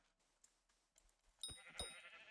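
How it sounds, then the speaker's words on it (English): Sheep bleating in the blocky online game Hypixel Skyblock, two short faint bleats close together near the end after quiet scattered clicks. "I'm going to show you both areas that have sheep."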